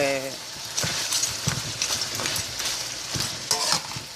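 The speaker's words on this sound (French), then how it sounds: "tous les ingrédients, la crevette, le crabe, les épices, le pois, faire connaissance dans l'huile" Shrimp, crab, spices and pigeon peas frying in hot oil, a steady sizzle with intermittent stirring scrapes and clinks close by, under occasional talk.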